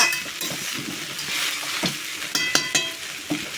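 Leftover rice stir-fried in a pan gives a steady close sizzle, with scraping stirs and sharp clinks of a metal spatula against the pan at irregular moments.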